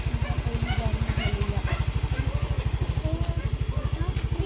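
A Yamaha Mio i125 motorcycle idles close by with a steady, fast-pulsing low putter throughout.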